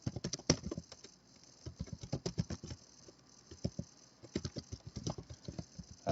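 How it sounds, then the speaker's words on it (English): Fingers typing on a computer keyboard while building pages for a Git workshop project, irregular bursts of quick close key taps with short pauses, alone without talk. "Stick with me here while I am typing along."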